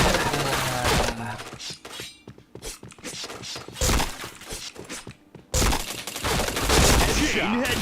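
Gunfire bursts and headshot hits in a shooting video game, dense loud rapid cracks and shattering impacts filling most of the clip, with brief gaps.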